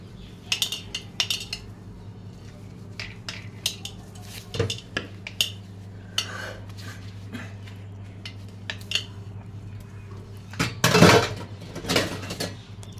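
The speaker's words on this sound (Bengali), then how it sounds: "এবার আমি ওই থালাবাটিগুলো ধুয়ে নেব পরিষ্কার করে।" Dishes, plates and bowls being washed by hand in a home kitchen, with irregular clinks and clatters of crockery and utensils over a steady background hum.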